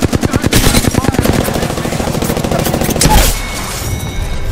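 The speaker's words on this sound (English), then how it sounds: "Opening fire on the enemy." Sustained automatic gunfire in Apex Legends, a fast, loud, close burst of rapid shots running for about three seconds, ending in a heavy thump, with a voice briefly speaking over it.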